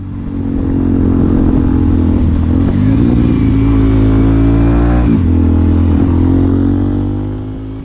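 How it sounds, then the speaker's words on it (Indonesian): A motorcycle ridden off-road in hilly country revs steadily and loudly, its engine note rising and dipping with a brief throttle change midway, running continuously without voices. "Hari ini pertama kalinya saya bawa motor off-road"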